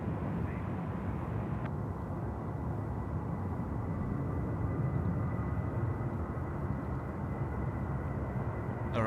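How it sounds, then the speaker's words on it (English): Distant roar of a Jetstar Airbus A320 jet engines throttled up for takeoff from runway 34 left at Sydney Airport, a steady broad rumble holding for several seconds. "Jetstar A320 now, pumping it off 34 left"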